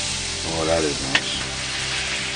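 Butter and olive oil sizzle steadily in a wok, a constant close frying hiss with a brief clink midway; a voice briefly murmurs over the start.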